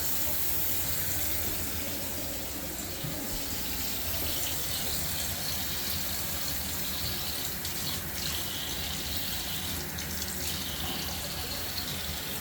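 Steady gushing of water from a tap, continuous and fairly loud, with no voices.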